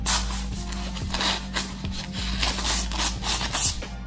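A dull, chipped Miyabi MC66 chef knife tears rather than slices, giving repeated rough rasping, rubbing strokes in an uneven rhythm, close and fairly loud over a low steady hum.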